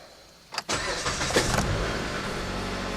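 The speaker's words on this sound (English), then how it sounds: "So now we'll go ahead and start the engine." A 2008 Jeep Compass engine cranks briefly, then catches and settles into a steady, loud idle close by, with no talking over it.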